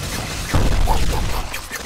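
Cannon fire in the Beast Battle Simulator video game, a sudden loud booming burst that starts partway in and rolls on as a dense, rumbling barrage of shots.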